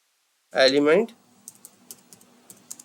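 A computer keyboard being used to type Python code. A short burst of speech comes first, then sparse, soft key taps follow at an irregular pace.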